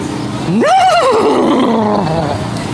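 A person imitates a horse neigh with their voice, a loud, close whinny that rises, wavers in a quivering trill and falls away over about two seconds, with no talk over it.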